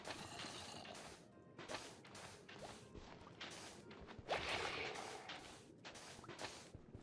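Glass shattering in a video game, a few sharp crashing and swishing bursts with one louder smash near the middle, set against steady game background sound.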